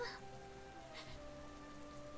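Rain in the video game Goddess of Victory: NIKKE patters softly and steadily, a faint continuous hiss with a low background hum.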